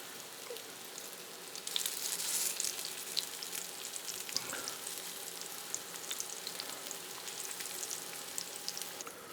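Welsh Glamorgan sausages, a vegetarian classic, sizzle steadily in a hot frying pan, a continuous close crackle of fat with small pops and no voices over it.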